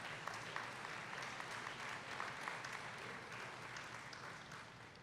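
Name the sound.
audience applause at a high school senior athletic banquet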